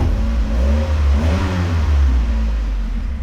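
Mazda Miata NC with boost modifications, its engine revving up close and loud, the pitch rising and falling through a couple of throttle blips over a steady low rumble.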